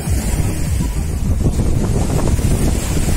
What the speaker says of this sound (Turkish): Karadeniz'in hırçın dalgaları.